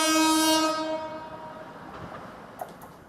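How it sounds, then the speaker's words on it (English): A new Gatwick Express train on the Gatwick and Brighton line sounds its horn in a loud, harmonically rich blast that fades over about a second, followed by the rumble and faint clicks of the passing train. "These are the new trains that will carry millions of passengers a year on the Gatwick and Brighton line."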